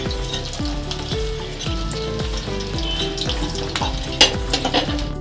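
Roti frying in hot white oil in a wok over a low gas flame, giving a steady close-up sizzle and crackle that holds throughout with a few sharper pops near the end.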